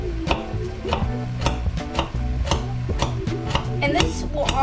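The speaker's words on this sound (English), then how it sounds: "I'm just making these nice little like cubed kind of cuts on my zucchini" A knife cuts zucchini into small cubes on a board, making a quick series of crisp, rhythmic chops up close with steady spacing and no talk.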